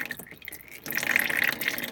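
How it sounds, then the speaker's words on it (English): Engine oil from a 2.2 JTDm2 diesel Alfa Romeo Stelvio drips from the oil filter, faint at first, then a denser close trickle of liquid drops and splatter. "As you can see, it is just dripping."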